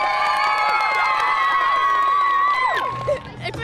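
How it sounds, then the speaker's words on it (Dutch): Children cheering and shouting for first place at a youth graffiti festival, excited high-pitched whoops and yells from a crowd that fade out near the end. "applaus voor de eerste plek"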